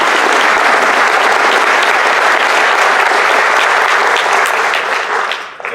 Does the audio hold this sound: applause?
yes